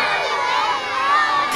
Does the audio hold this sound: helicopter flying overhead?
no